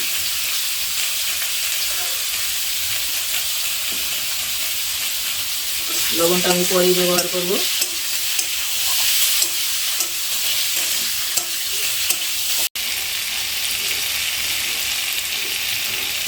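Papaya and potato fry in oil in a wok with a little turmeric, giving a steady close sizzle with stirring scrapes throughout; a voice speaks briefly partway through.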